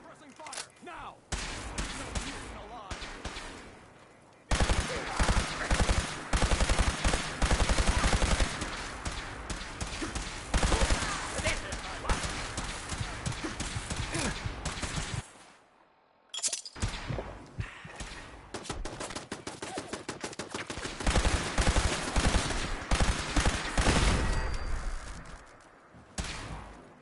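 Bursts of gunfire in Fallout 4, loud rapid volleys and single shots in dense clusters with short lulls between, and one near-silent gap partway through.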